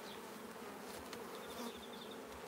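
Honey bees fill an open hive with a dense, steady buzzing hum, close and continuous, individual wings whining briefly above the drone.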